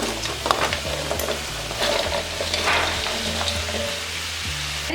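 Chicken 65 and masala frying in hot oil, likely with onions, in a dhaba-style home kitchen. A steady close sizzle runs throughout, with repeated spatula scrapes and clinks as it gets stirred, and no talking.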